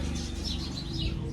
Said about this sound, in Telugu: అక్కడ పిట్టలు మాత్రం మస్తు సౌండ్ చేస్తుంది